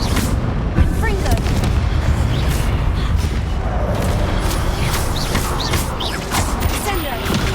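Confringo fire-blast spell explosions and booming impacts from Hogwarts Legacy combat, loud and continuous through the whole stretch, with game effects layered over a busy low rumble.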